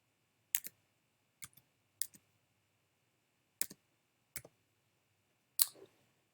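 A zip code is typed on a computer keyboard as six quiet, separate pairs of key clicks, spaced unevenly apart in an otherwise silent room.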